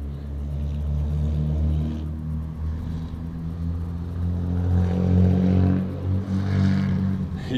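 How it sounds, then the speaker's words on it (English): Cars on a road in a valley in Georgia pass with a low, continuous engine rumble that swells and fades, moderately loud with no speech. "here the cars are coming."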